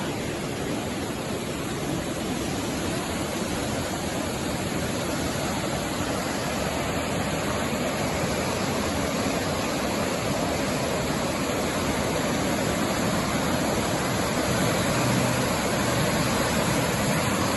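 Snow-melt waterfall in Duncan, Vancouver Island, pouring as a torrent in misty rain, giving a loud, steady, unbroken roar of rushing water with no voices.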